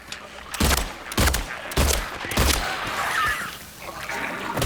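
Gunfire in the Silent Hill 2 Remake video game: several loud, sharp shots ring out in irregular succession, each with a short echoing tail, and fainter ambient game sounds follow.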